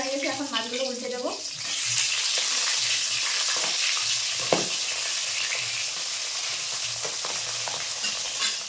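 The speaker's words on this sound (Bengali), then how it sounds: "উল্টে পাল্টে লাল লাল করে মাছগুলো ভেজে নেব" Bhola fish sizzle in hot oil in a pan, a loud steady crackling fry that runs throughout, with a brief clink of a utensil and some stirring as the pieces are turned.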